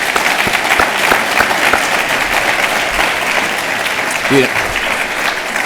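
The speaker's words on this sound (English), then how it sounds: "I just want to do one more applause because that was fantastic." Audience at an annual research bureau meeting in Worcester gives a sustained round of clapping, loud and continuous, while a voice briefly speaks over it near the end.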